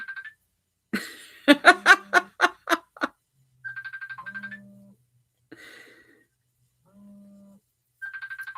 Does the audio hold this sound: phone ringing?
yes